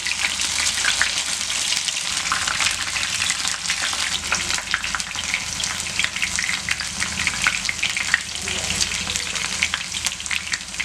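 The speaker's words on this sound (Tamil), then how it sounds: "பன்னீர் எல்லாமே போட்டு நல்லா பொரிச்சுக்கலாம். இதுலேயே நம்ம காலிஃப்ளவரையும் போட்டுக்கலாம்." Paneer and cauliflower frying in hot oil in a pan, a dense, loud crackling sizzle with steady spattering pops throughout, no one speaking.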